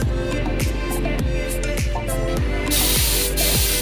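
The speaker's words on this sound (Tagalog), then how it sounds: "i-sprayin muna natin ng thinner para mawala yung mga grasa-grasa niya" Thinner sprayed from a spray paint can onto a greasy Suzuki X4 125 wheel hub to wash it, a steady close hiss over a rhythmic clicking mechanical ratchet-like sound, with the spray growing louder toward the end.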